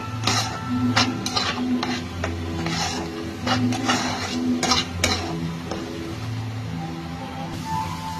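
Spice paste for a prawn malai curry sautéed in a kadai, a low frying hiss under repeated metallic scrapes and clatters of a spoon against the pan, denser early then thinning out.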